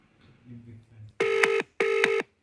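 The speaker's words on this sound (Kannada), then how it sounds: "ಕಾಲ್ ರಿಂಗ್ ಆಗಬೇಕಾದ್ರೆ ಯೋಚನೆ ಮಾಡ್ತಾ ಇದ್ದೀನಿ." Two loud, evenly spaced phone ringback tones sound close up, each a steady buzzing pulse with a brief gap between, following a short stretch of quiet talk.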